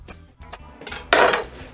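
A kitchen knife chops trimmed celery stalks into one-inch pieces on a board, giving a few close, uneven knocks and clacks, with one brighter clatter near the end.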